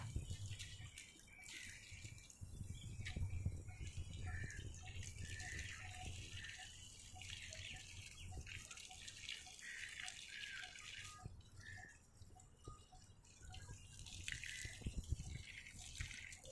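Irrigation water flows steadily across a marigold field, a continuous rushing wash with small dripping and trickling sounds scattered through it, moderately near and without speech.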